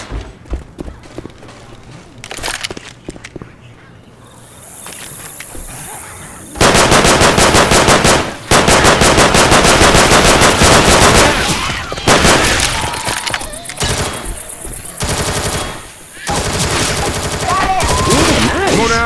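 Rapid bursts of automatic shotgun fire in Left 4 Dead 2's Dark Carnival campaign, loud and sustained over several seconds with short pauses between volleys, with voices calling out during the action.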